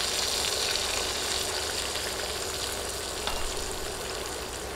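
Onion, garlic and ginger pastes fry in hot oil for an egg korma, a steady close crackling sizzle with small pops throughout and no voices.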